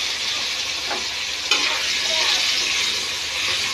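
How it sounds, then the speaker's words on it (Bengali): Potatoes, tomato, chilli, cumin and turmeric powders with sugar and salt sizzle steadily in hot oil in a pan while a spoon stirs and scrapes through the spices. "টমেটো, লঙ্কার গুঁড়ো, জিরার গুঁড়ো, হলুদের গুঁড়ো, চিনি, নুন মাপ মতন দিয়ে সব কষিয়ে নেব।"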